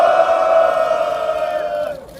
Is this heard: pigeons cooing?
no